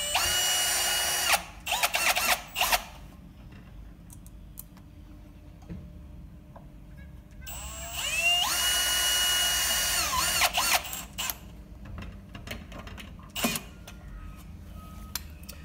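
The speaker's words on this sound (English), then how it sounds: "So all we need to do is get your electric screwdriver, pop it right in there." An electric screwdriver whirs in several short bursts and one longer run while driving screws into a pet door track, close and loud, with faint clicks and handling noise between the bursts.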